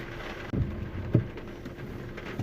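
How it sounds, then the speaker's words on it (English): Rain falls in a steady hiss, broken by a couple of dull low thuds, with no voices present. "Today is, as I said earlier, is a rainy day"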